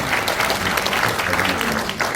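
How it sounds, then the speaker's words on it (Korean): A brief burst of dense, even applause from the audience at a New Year reception gathering, steady and fairly loud throughout. "자, 박수 부탁합니다"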